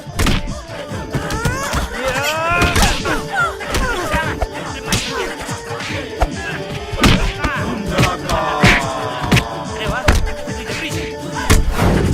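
Gunfire in a Bollywood comedy film scene: repeated sharp bangs and heavy thuds mixed with music and sliding, whistling tones in a busy, loud soundtrack.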